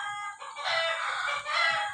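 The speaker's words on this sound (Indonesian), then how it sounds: "Nah, ada ayam." A rooster crows and clucks at close range in two drawn-out bursts, loud and alone with no talk over it.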